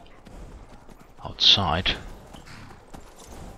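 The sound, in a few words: horse hooves clip-clopping in video game Skyrim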